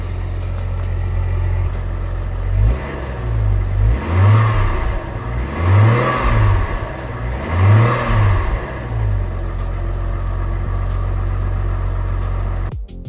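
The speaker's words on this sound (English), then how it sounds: "So I'm gonna go fire this thing up and see how she sounds." A car built for the Gambler 500 rally, not started for about two weeks and due for exhaust cuts, idles with a deep rumble and is revved four times in steady succession, loud and close, before it cuts off abruptly.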